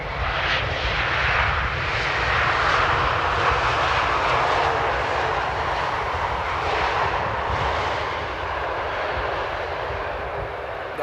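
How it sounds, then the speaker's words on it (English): A KLM Airbus A321neo arriving at Amsterdam Airport makes a loud, sustained jet roar with a rushing hiss that swells and eases slightly as it passes, nearby and alone. "One of the younger ones of the KLM fleet, the A321 Neo."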